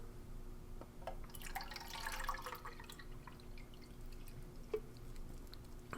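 About 600 ml of water poured steadily into a container while an army ration, chicken with rice, is being prepared; a soft, continuous trickle with faint drips, close and quiet, with no talking.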